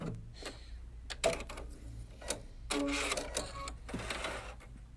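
A sewing machine runs a triple stitch on a fabric tray, with rapid mechanical whirring in several bursts, ticks and clicks between runs, close and moderately loud, with no talking.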